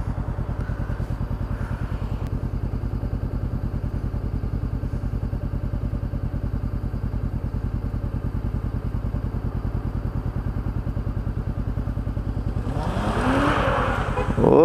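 A Honda CBR500R motorcycle rides along on a steady, throbbing engine note that rises into a louder rev near the end, with constant wind noise and no speech.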